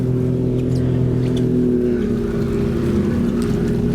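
High-horsepower racing powerboats of the World Predator Classic speed off across choppy water on the Haringvliet, a loud sustained droning engine roar with steady layered tones, no voices.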